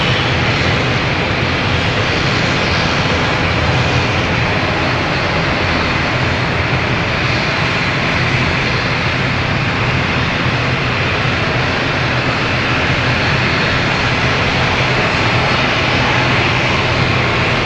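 Embraer E195-E2 jet at London City Airport, a loud steady roar of engines that holds unchanged throughout with no talking over it.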